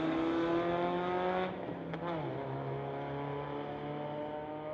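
A Mazda and a Chevrolet Chevelle drag racing at a street-legal drag strip, engines roaring loud and steady, one note dropping as a car shifts midway, with a brief squeal, no voices.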